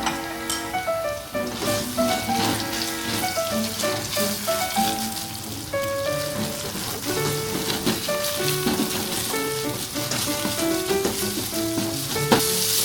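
Coarsely chopped shrimp stir-fries in a pan with a loud, dense crackling sizzle that continues throughout under steady background music.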